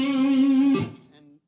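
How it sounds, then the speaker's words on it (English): Electric guitar through a fuzz tone pedal, a milder distortion, holds a sustained buzzing note close and loud, then a second note is struck and fades out quickly. "a less distorted distortion pedal."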